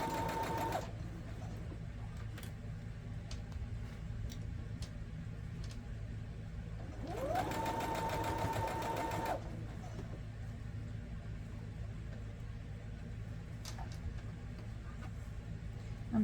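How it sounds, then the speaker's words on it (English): A sewing machine stitching a quilted pillow top runs in two short bursts of rapid mechanical whirring, the first at the start and the second a few seconds later, with quiet room hum between them. "my hands are all up under that sewing machine"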